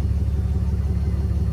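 Fuel pump priming on a tuned Cummins diesel truck: a steady, loud low hum with a fast, even pulsing throb, with no talk.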